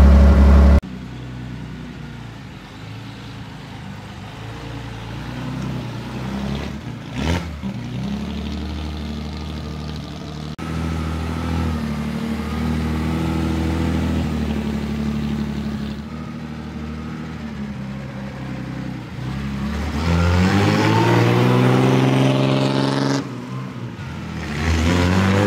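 A 1936 Wanderer W25K car engine revs loudly and steadily for most of the time, its pitch rising and falling as the throttle opens. A sharp surge in revs comes near the end, with no talk over it.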